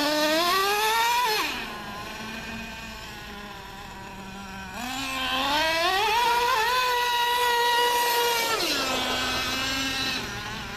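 A Traxxas T-Maxx nitro RC truck engine revving at about half throttle, a buzzy, high whine that rises and falls in long swells, loud and close with no talk.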